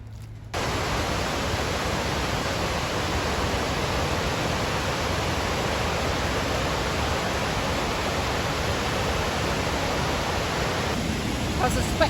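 River rapids pouring over a weir near Lake Louise make a steady, broad roar of rushing water, loud and close, constant from just after the start to the end.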